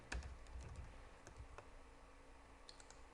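A few sharp, quiet clicks at a computer while coordinates are entered in CNC lathe software, isolated taps in a near-silent room.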